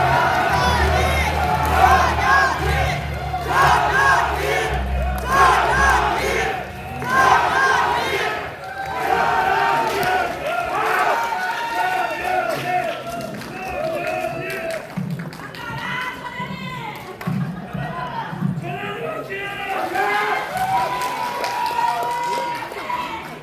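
A crowd cheers, shouts and claps at a political party convention rally welcoming a candidate, loud and sustained, with chanting voices and an announcer speaking over the noise.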